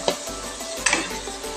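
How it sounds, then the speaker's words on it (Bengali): Vegetables fry with ground spice paste in a pan for shyama rice khichuri, giving a steady close sizzle with two sharp scrapes of a stirring utensil and no talk. "মশলাটি দেওয়ার পর ভালো করে কষিয়ে নেব।"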